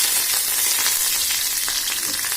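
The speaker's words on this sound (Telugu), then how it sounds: "ఇప్పుడు తాలింపు పెట్టుకుందామండి. ఇదిగోండి ఆవాలు జీలకర్ర వేసాను" Mustard seeds, cumin and curry leaves sizzle steadily and loudly in hot tempering oil for a gongura roti pachadi, a dense continuous frying hiss with small crackles throughout.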